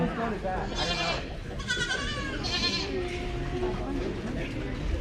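Dairy goats in the non-milking class of a county fair 4-H/FFA show arena bleat several times, some close and some farther off, over a busy crowd murmur and an announcer's voice.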